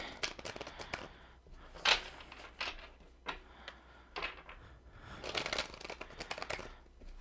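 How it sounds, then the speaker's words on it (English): Tarot cards are shuffled by hand in a series of soft, close riffles and flicks, irregular bursts of papery snapping that rise and fall, with no voice over them. "one more big shuffle"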